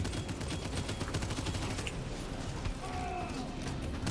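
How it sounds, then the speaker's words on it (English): Enemy gunfire in the video game Abyssus, with rapid bursts of shots rattling over a dense game soundscape, fairly loud and continuous. "He's shooting me."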